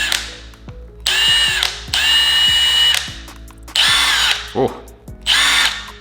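Milwaukee 1/2-inch impact wrench spun up in short free-running bursts at its different speed settings, a loud whining motor rising in pitch from one burst to the next, with a brief spoken exclamation between bursts.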